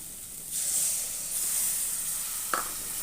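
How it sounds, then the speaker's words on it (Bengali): Water poured into a hot pan of frying fish bursts into a loud, steady hiss of sizzling and steam that carries on to the end, broken by one brief click near the close. "আমি 1 বাটির পরিমাণ জল দিয়ে দিলাম।"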